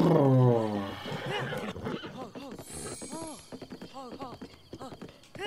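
A horse neighs in Zelda Breath of the Wild, a loud whinny opening the clip, followed by a run of soft rhythmic hoof clip-clops and faint game sounds.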